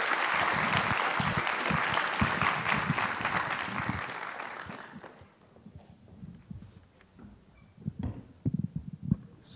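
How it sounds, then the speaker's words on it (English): An audience at a charity science lecture claps for a speaker, dense steady applause that fills the first half, then thins into scattered claps and shuffling noise. "please give a big round of applause to Mr. Shun."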